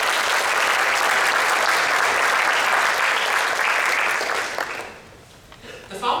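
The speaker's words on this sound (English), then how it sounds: "Let's give all of these folks a round of applause." Audience applause at a county teacher of the year ceremony: loud, steady clapping from a large crowd that carries on for about five seconds, then thins out and tails off.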